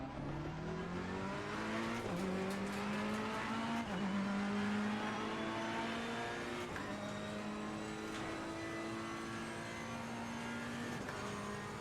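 A race car in the Assetto Corsa Competizione video game holds a loud, steady engine note that drops in pitch under braking, then revs back up through repeated downshifts and acceleration, with no talking.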